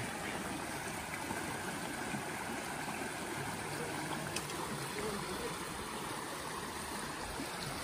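A stream at a picnic spot flowing steadily, a continuous broad rushing and trickling wash that stays even and close throughout with no break.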